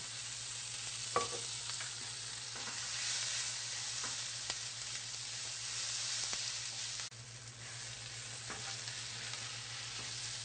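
A boneless ribeye roast fries in an oiled pan, with a steady sizzle and crackle running close and continuous, punctuated by faint scraping or stirring taps and a low electrical hum beneath.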